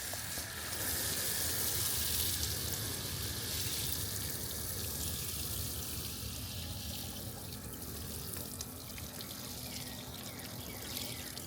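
Water runs steadily from a hose or can onto the soil of a potted peach tree in a summer container garden, a close, continuous splashing hiss with no talking.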